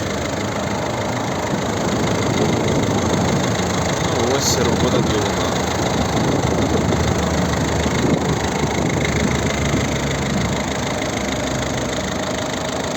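A 2010 Volvo V50 1.6-litre turbo diesel engine idles steadily nearby, a continuous rough, knocking rumble that holds an even level throughout.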